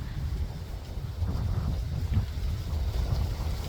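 A strong autumn wind blows outdoors beside a lake in Regina, Saskatchewan, buffeting the microphone with a loud, gusty low rumble that rises and falls steadily, with no talk.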